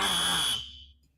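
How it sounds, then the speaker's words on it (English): A fire alarm blares loudly and continuously, then cuts off and fades into a quiet room after about half a second. "Every time you try to bring up Rutgers, the fire alarm goes off."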